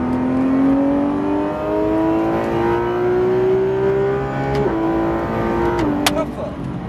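A car engine is revved hard at full throttle while driving, its pitch climbing steadily and loudly before dipping at gear changes, with a driving instructor talking over it from inside the car.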